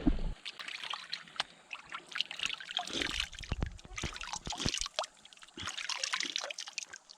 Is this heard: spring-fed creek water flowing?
yes